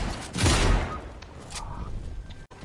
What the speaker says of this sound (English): he's got shotgun too.